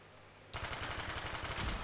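Rapid SMG bursts from Call of Duty Black Ops start abruptly after a quiet moment and rattle on continuously, loud and close, with no voices.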